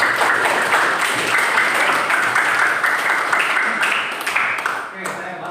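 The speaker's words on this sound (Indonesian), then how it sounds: "Silakan tepuk tangan." A class at SMKN Kadipaten vocational school in Tasikmalaya gives a dense burst of clapping that carries on for several seconds before thinning out, with voices mixed in.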